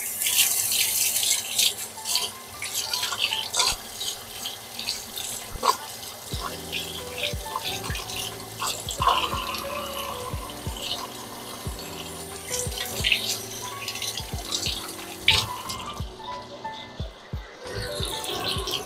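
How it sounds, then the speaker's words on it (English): Tap water runs steadily into a sink during handwashing, a continuous close splashing hiss with small rattles and knocks throughout, the flow cutting off near the end. "I'm gonna wash my hands now."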